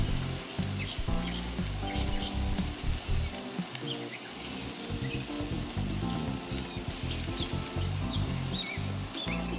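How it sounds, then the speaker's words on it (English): Bacon sizzles and crackles steadily over hot coals on a charcoal grill, a dense continuous hiss close by with no talking. "we can cook it right over the coal"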